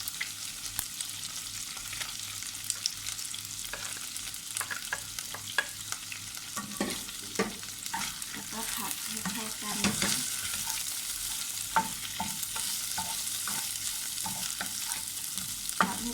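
Shrimp stir-fry over high heat with lemongrass and kaffir lime leaves: a constant close sizzle broken by repeated scraping and clattering of a utensil against the pan, with no speech.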